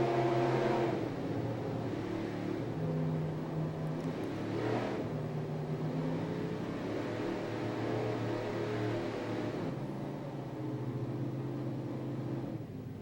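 Race powerboat Airborne running during the 2002 APBA World Championships offshore race in Key West, Florida: a steady, droning engine roar with harmonic hum holds throughout, fairly distant and continuous, with slight swells in pitch and no talk.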